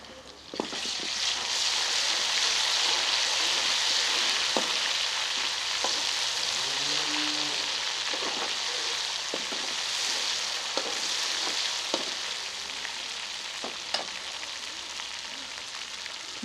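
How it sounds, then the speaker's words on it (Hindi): Onions and ginger garlic paste fry in a karahi pan with a steady, close sizzle throughout, broken by occasional clicks and scrapes of stirring. "मसाले को अच्छे तरीके से भून लेना है क्योंकि बाद में इसकी भुनाई नहीं होनी मछली में।"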